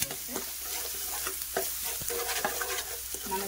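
Ginger garlic paste sizzling steadily in a hot pan for a curry, with scattered clinks and scrapes of a spoon stirring through a constant close frying hiss; no one speaks.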